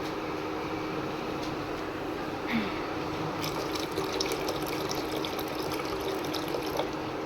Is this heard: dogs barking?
no